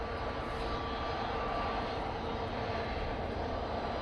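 An EasyJet Airbus A320 accelerates down the runway on its takeoff roll at a windy Manchester Airport, a steady broadband engine roar held at constant loudness throughout, heard from a distance with no talk.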